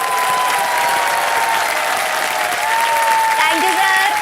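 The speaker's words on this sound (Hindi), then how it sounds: "तालियां बज जाएं जोरदार।" A studio audience on the Indian quiz show Kaun Banega Crorepati bursts into loud, sustained applause that fills the whole stretch, with a tonal musical sting rising over the clapping.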